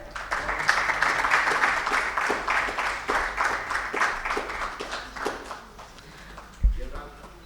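Audience applause at the India CSR Awards ceremony, dense clapping from a hall that holds steady, thins toward the end and finishes with a single loud thump.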